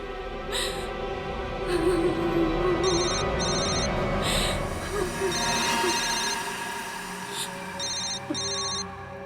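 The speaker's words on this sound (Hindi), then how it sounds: "फोन उठाओ, स्पीकर पे डालो।" A telephone rings repeatedly in short electronic bursts over a steady rumbling, hissy background with faint voices.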